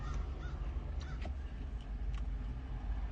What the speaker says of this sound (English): the crows are going off again